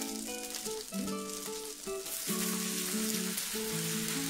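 Shredded potatoes for hash browns seasoned with Old Bay hitting a hot pan, a broad steady sizzle that swells and stays loud, with some tonal kitchen or background music underneath.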